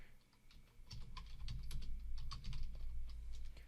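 Rapid, close clicking of a computer keyboard as Python code is typed, an uneven patter of keystrokes over a low background hum with no voices.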